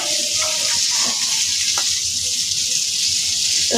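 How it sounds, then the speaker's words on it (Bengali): Magur catfish frying crisp in a pan of hot oil, a steady close sizzle and hiss running throughout with a few soft spatters and crackles. "এখানে মাগুর মাছ আমি কড়া করে ভেজে নিচ্ছি।"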